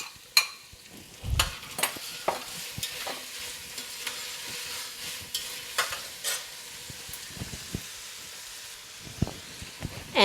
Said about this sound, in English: we're going to go ahead and introduce and pre-fry our diced ham a little bit